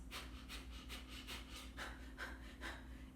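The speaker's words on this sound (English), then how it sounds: "it's common that you're going to have shallow breathing like this" A person breathes in quick, shallow, nervous breaths, about eight short puffs in three seconds, close and quiet over a low steady hum.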